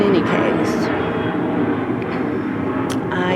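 Airplane flying overhead, a steady broad engine roar that holds throughout, fairly loud, with someone talking over it.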